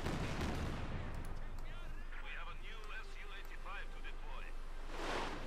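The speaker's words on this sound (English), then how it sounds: "Panzer barrage almost takes out the conscript, but one man survives" A Panzer artillery barrage in the World War II strategy game Company of Heroes 2 lands as loud, rumbling explosions at the start and again at the end, with someone talking in between.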